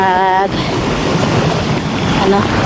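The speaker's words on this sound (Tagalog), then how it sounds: "Kailangan talaga ng alalay ngayong malakas yung alon" Strong sea waves surge and splash against a boat amid gusty wind noise, with a voice briefly heard at the start.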